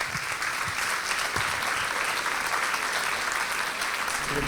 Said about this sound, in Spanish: un aplauso muy grande, muy fuerte para cada uno de ellos, para cada una de ellas